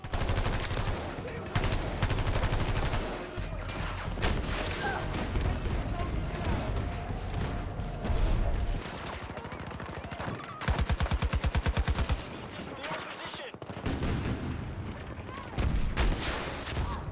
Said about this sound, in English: if you see somebody who's taking shelter inside of a hut, you can blow them out with a well-placed explosive